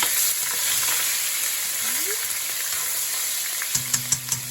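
Garlic frying in a hot wok gives a loud, continuous sizzle and crackle, with a few sharp clinks of a utensil against the pan near the end.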